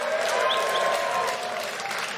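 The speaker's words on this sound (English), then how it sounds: "Give us a cheer if you watch the Formula One." A stand-up comedy audience cheers and applauds steadily, a loud, dense wash of clapping with a few whoops that eases slightly toward the end.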